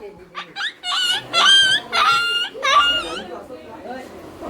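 A person imitates a dog with a run of high, whiny yelps and barks, several loud voiced bursts in quick succession close to the listener.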